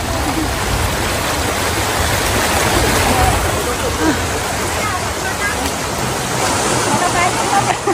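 A flooded river in Marikina rushes with a steady, loud, broadband roar of churning water that fills the whole stretch without pause, with faint voices mixed into the noise.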